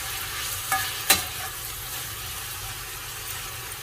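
Chopped mixed vegetables for upma stirred together in a pan, a low steady frying hiss with a couple of quick spoon scrapes near the start, close and moderate, no voices.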